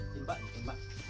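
A dog gives a short yip or bark amid background chatter, close by and brief, with a whimpering quality, while people talk over it.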